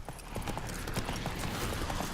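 Steady hoofbeats of a galloping horse in the Witcher 3 video game, a fast rhythmic clip-clop over a dense, constant background wash.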